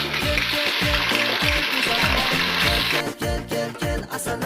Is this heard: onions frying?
yes